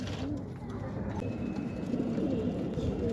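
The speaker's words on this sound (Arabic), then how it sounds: "ويلا بينا نشوف بقى الحمام ده فين" Pigeons coo softly on a rooftop loft at night, low repeated throaty calls close by over steady background noise.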